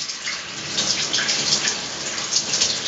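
Warm water runs steadily over hair during a rinse, a continuous close splashing and pattering stream with no voices.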